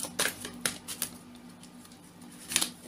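Tarot cards being shuffled and laid out make soft, crisp taps and flicks, a few separate quick strikes close by, with quiet pauses between them in a hushed room.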